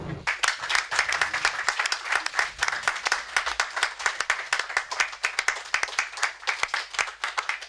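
A church congregation claps steadily throughout, a dense, sustained round of applause from many hands filling the room at a lively, even pace.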